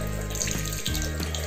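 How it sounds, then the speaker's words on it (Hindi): Water gushes out of a Medtech Smart Handyneb nebulizer pipe as it is flushed clean, a loud, close, steady running-water sound with slight fluctuations. "फिर देखिए दूसरी साइड से पानी निकल गया है इसमें से, क्योंकि थोड़ा सा प्रेशर आ गया पानी"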